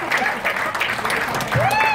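Concert crowd clapping and cheering for the bass player at a live Malay pop show, a dense, steady wash of applause mixed with shouts and a voice speaking over it.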